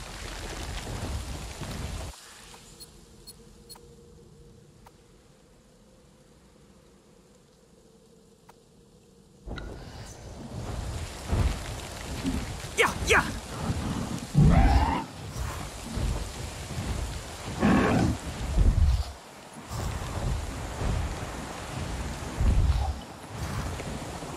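A thunderstorm with rain in the video game Avatar: Frontiers of Pandora starts with a quiet, low hum. Then heavy rain and loud rolling thunder burst in, and booming rumbles swell and fade repeatedly.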